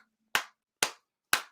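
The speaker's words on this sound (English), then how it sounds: "Here's my ancestor clap." Three single hand claps ring out one at a time at an even, unhurried pace, each sharp and distinct against near silence.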